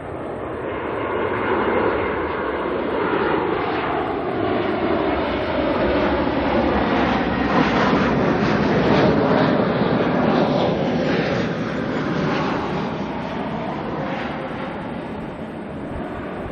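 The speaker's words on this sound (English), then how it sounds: "this is ZKOYA 321 Neo coming in from Christchurch this morning is NZ 548" An Airbus A321neo, registration ZK-OYA, arrives as flight NZ548 from Christchurch at Auckland Airport, its jet engines a loud, sustained broadband roar with a slowly shifting whine as it passes, with no voices over it.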